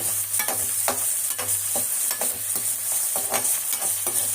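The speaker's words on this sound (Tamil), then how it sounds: "நான் அம்மா வந்து இதிலே போட்டு வறுக்க போகிறேன்" Bitter gourd frying in hot oil, stirred with regular scraping strokes about twice a second over a constant loud sizzle, close by, with no talk.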